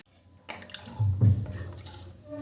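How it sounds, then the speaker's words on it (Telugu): A glass of water poured into a cooking pan while making a prawn curry for biryani, a short splashing, sloshing pour close by in a quiet kitchen. "ఇప్పుడు ఒక గ్లాస్ వాటర్ వేసుకోవాలి."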